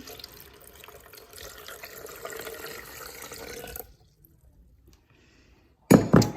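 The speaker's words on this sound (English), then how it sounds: "Pour it carefully so you don't have a spill." About four cups of water pour steadily for papermaking with a splashing, running sound, then stop; after a pause, a couple of louder sloshes and clinks follow.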